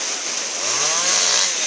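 A power saw, likely a chainsaw, cuts branches into small pieces outdoors near a river watermill in Messinia, with a steady high whine running continuously and a slight rise in load partway through.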